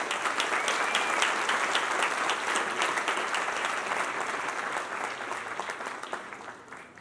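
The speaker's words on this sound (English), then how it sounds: "Can we just give them another round of applause, please?" An audience at the 9th World Ranger Congress in Chitwan, Nepal, gives a full round of applause: dense, lively clapping that stays loud, then slowly fades over about seven seconds.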